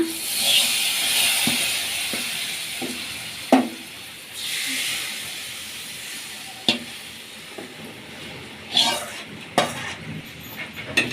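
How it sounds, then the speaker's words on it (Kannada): Spice tempering for a buttermilk cucumber tambuli sizzles softly in hot oil, with occasional sharp clinks of a metal spoon against the pan. "ಈಗ ಮಜ್ಜಿಗೆಗೆ ಒಗ್ಗರಣೆ ಕಟ್ಕೊಳ್ಳೋಣ"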